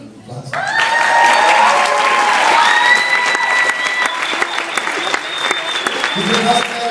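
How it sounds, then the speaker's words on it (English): Audience applause at a high school mariachi award ceremony, a steady broad wash of many clapping hands lasting several seconds, with cheering voices and sustained tones layered over it. "give him an applause"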